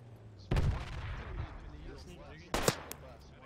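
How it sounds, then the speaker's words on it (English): Gunfire in the military shooter game Project Reality: two sharp, loud broadband shots about two seconds apart, each with a short echoing tail, over a steady low rumble of background battle ambience. "they're shooting at me"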